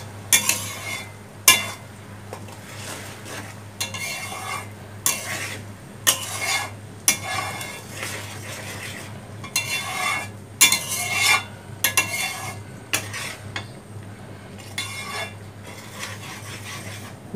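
Whole olives being stirred into a sweet-sour pickle with vinegar and spices, with a repeated rhythmic scraping of a utensil against the pot in bursts over a low steady hum, and a faint sizzle beneath.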